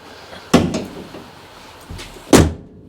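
A van door is shut in the back of a van during an LED light fit-out, giving two loud, close thuds about two seconds apart, each slam followed by a brief rattle.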